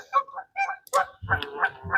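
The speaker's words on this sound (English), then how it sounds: "Big ass birds be scaring me, dude." Geese honking close by at a waterside bank, a quick run of loud, nasal calls in short uneven bursts with no talking.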